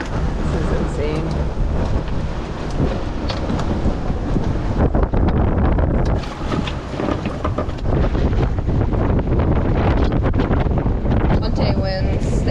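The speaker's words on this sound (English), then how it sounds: "Monte winds, they came in, we're at the beach. It's 30 knots right now." Strong 30-knot wind gusts at sea beside a beach, roaring and buffeting against the microphone in a loud, constant rush with brief lulls, while a voice talks through it.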